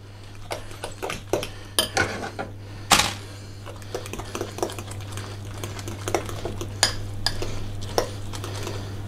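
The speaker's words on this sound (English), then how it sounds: "So we'll give that a stir around." Paxo stuffing mix stirred in a bowl: a close run of irregular spoon scrapes and clinks against the bowl, with a steady low hum beneath.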